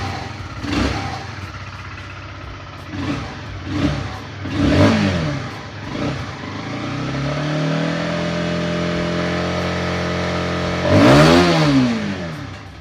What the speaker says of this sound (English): it's not a loud bike at all